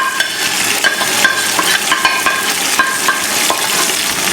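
Beef fries in a pot with tomatoes, green chillies and dry spices, a loud close sizzle under constant vigorous stirring with repeated scraping and clinks of the spoon against the pot.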